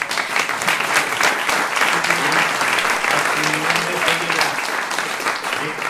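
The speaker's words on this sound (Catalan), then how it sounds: "els donem un gran aplaudiment" Sustained applause from a concert audience greeting a choir, dense and steady throughout, with some voices murmuring underneath.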